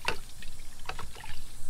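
Armor All ceramic car wash soap, about four ounces, poured into a wash bucket of water and stirred around, giving soft, close trickling and sloshing splashes.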